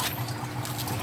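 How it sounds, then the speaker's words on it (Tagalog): Water runs steadily from an aquarium pump, a close continuous gurgle and splash of flowing liquid with a low hum underneath, unbroken for about a second. "Ito yung pump"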